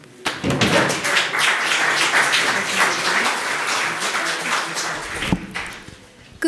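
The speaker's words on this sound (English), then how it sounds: "please welcome Agnieszka with your applause." An indoor audience at a talk on information war claps steadily in a dense wash of applause, tapering off with a few scattered claps and a thump at the end.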